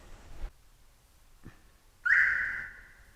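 A car alarm rearms after being disarmed: a faint click, then a single sustained electronic chirp-tone lasting about a second, close and fairly loud.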